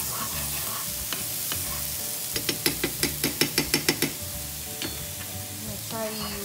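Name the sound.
garlic heating in a pan for Zingers sauce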